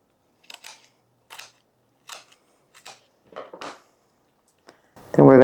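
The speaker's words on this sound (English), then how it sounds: "Just take your kitchen shears and cut right down that fat line on both sides." Kitchen shears cutting along the fat lines beside a chicken's backbone, a series of sharp crunching snips in separate bursts, with a louder clunk at the end.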